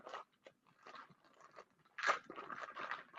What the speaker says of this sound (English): I break the pasta in half while it's in the package